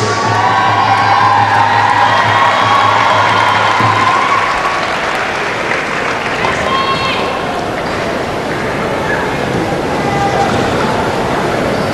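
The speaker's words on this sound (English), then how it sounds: "Please, ladies and gentlemen, keep clapping" Large audience applauding and cheering at a short track ice skating final ceremony, a dense continuous roar of clapping and shouts filling the arena, with a voice over a loudspeaker at the start.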